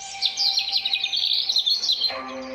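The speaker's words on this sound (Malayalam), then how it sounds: "കുയിൽ പാടാൻ തുടങ്ങി." A cuckoo sings a rapid, high warbling phrase close by for about two seconds, then a lower tone follows.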